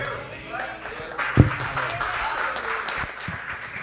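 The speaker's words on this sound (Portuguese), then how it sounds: "Aplauda ao Senhor Jesus." A church congregation at a family worship service applauds, a continuous wash of clapping with voices and exclamations mixed in, fairly loud throughout.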